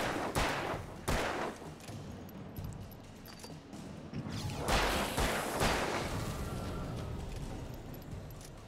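Several sharp shots from a gun aimed at a zombie in the video game Alan Wake, two quick cracks followed by a louder pair over a dark, rumbling ambience.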